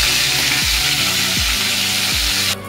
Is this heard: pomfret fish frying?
yes